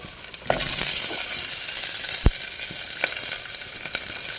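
Green chillies and onion dropped into hot oil, bursting into a loud, steady sizzle with a few clinks and stirring scrapes as frying continues.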